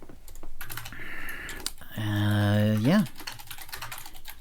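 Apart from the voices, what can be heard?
typing on a computer keyboard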